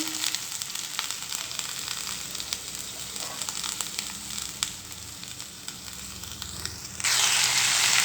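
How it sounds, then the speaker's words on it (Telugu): Ivy gourd (tindora) pieces fry in a pan with a steady, dense sizzle. The sizzle jumps louder and brighter near the end as the pieces hit hotter oil or get turned. "ఈ దొండకాయ ముక్కలు ఇందులో వేసుకోవాలండి వేసుకొని వేయించుకోవాలి"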